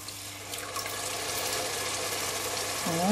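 Tomato juice pours into a pan on the stove, a continuous watery splashing and gurgling at close range, steady and building slightly toward the end.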